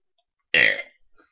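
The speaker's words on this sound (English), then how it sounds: "Good burp" A single loud, close burp lasts about a quarter second, followed by faint small trailing sounds in an otherwise quiet room.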